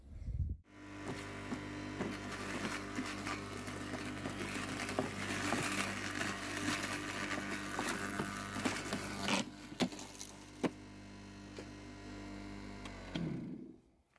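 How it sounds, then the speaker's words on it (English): A garden mulcher runs steadily as it shreds backyard tubers and pieces of vine: a loud, continuous grinding drone that starts abruptly, holds for about twelve seconds with a few sharp knocks near the end, and then cuts off. "there's all those tubers mulched up, and a bit of the vine I put through as well"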